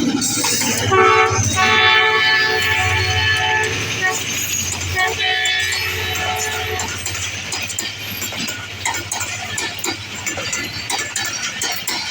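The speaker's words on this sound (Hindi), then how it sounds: "अब मिल्लत एक्सप्रेस ही है और ZCU30 लोकोमोटिव लीड कर रहा है।" The Millat Express, led by a ZCU30 locomotive, rumbles past loudly at a railway station, with a sustained engine drone, horn-like tones and rolling clatter that gradually eases off.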